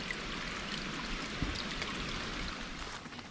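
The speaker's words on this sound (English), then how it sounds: "Just a little stream we came across here" Small stream flowing through a thick wooded creek area off a trail in Northwest Georgia, a faint, continuous water trickle and babble with a soft splash about halfway through, and no voices.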